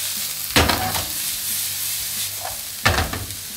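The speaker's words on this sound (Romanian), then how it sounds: "O să călim puțin ceapa." Onion and vegetables sautéing in olive oil in a hot pan, a steady close sizzle broken by two sharp stirring scrapes, with no talking.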